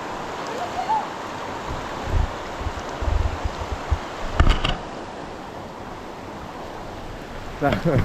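Steady broadband rush of river water flowing through Achankovil forest, continuous and moderately loud, with a few brief knocks and rustles near the microphone.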